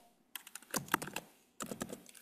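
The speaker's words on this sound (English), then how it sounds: "somebody is typing very fast." Rapid typing on a computer keyboard, close by, in two quick bursts of dense key clicks separated by a short pause, with no voices.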